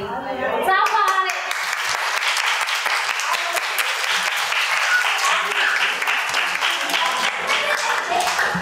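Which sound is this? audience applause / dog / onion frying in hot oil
audience applause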